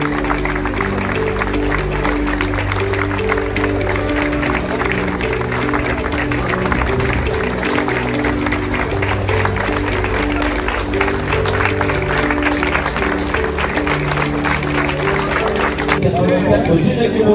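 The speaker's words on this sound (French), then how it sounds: "1 minute d'applaudissement public." A long steady round of crowd applause at an outdoor motocross race meeting in Laval, held as a minute-long tribute, dense clapping with background chatter and a low hum throughout.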